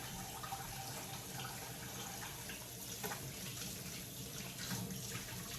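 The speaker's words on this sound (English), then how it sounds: "Ever try to wash your hands real fast before the water gets too hot?" Water runs from a kitchen tap while hands are washed quickly, a quiet, steady stream with faint irregular splashing and small clatters, with no voices.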